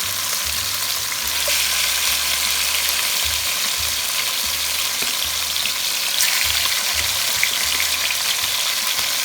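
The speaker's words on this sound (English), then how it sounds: "Now we're just going to leave one side fry and turn it to the other side." Seasoned chicken pieces frying in a pan for Jamaican-style stew chicken, giving a loud, dense, continuous hiss of sizzling oil close up that runs steadily throughout without talking.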